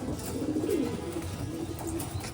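Racing pigeons in their loft give low, soft cooing, a steady murmur of overlapping coos over a constant background hum with no voices.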